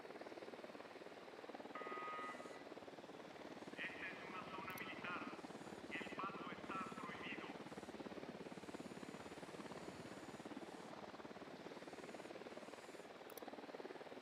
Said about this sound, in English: We got a chopper.